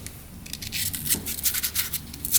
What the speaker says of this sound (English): It's like 800 grit sandpaper. Just gonna try to clean out that seat so the needle doesn't get stuck every time it goes down.